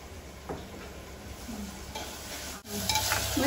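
Ginger garlic paste frying in oil in a clay pot for potato chicken curry, a soft close sizzle with faint stirring scrapes that grows louder near the end.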